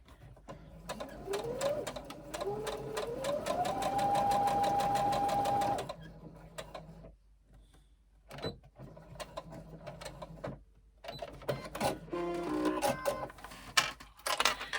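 A sewing machine stitches light cotton fabric close to a seam edge, its steady whirring run rising in pitch for about six seconds, then pausing before shorter bursts of stitching and mechanical clicks resume.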